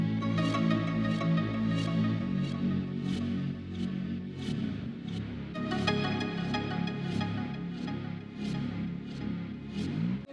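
Lead synth line from the verse of a produced track, with a roomy reverb-like space, sits over a dense, steady mix with regular percussive hits, sustained and fairly quiet throughout, no talking.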